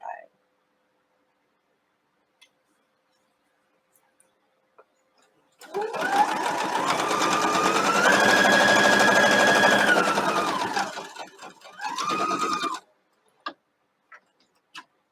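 A hand-cranked sewing machine stitching fabric runs in one steady, close whirring burst of about seven seconds, then a shorter second burst, with a few soft clicks before and after.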